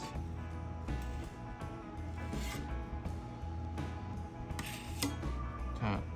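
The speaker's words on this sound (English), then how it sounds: "Scrape a couple times both ways" A metal knife scrapes drywall compound repeatedly across a wall surface in several long strokes, close and fairly quiet, with a low hum underneath.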